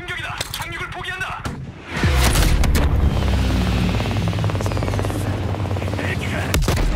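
Military helicopter in Call of Duty Black Ops Cold War coming under attack, its loud steady rotor and engine drone filling the scene over repeated gunfire and blasts, close and continuous, after a brief stretch of talk.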